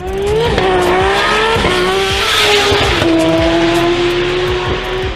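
A tuned Nissan R34 GT-R race car with a 960 kW RB engine drives hard, its loud engine rising and falling through gear changes while the tires squeal, close and continuous with no talking.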